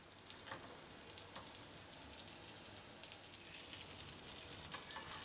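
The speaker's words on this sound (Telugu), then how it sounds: "ఒక సైడ్ వేగే వరకు ఉండి తర్వాత మళ్ళీ వెనక వైపు తిప్పుకొని వేయించుకోవాలి" Stuffed bitter gourd frying in oil in a pan, a soft, steady crackle and sizzle with scattered pops, fairly faint and continuous, with no talk.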